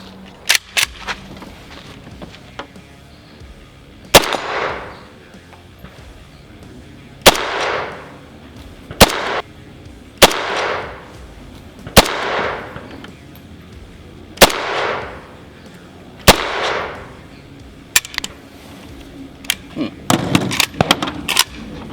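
An AK-47 rifle fires 7.62x39 steel-cased rounds outdoors, about a dozen loud, sharp shots spaced a second or two apart with brief echoing tails, a quick cluster near the end, and faint talk between shots.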